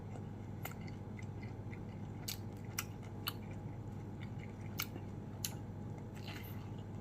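Quiet, close chewing of fresh sticky waxy corn from a fresh market in Rasi Salai, Sisaket, with scattered soft clicks and moist smacks over a low steady background.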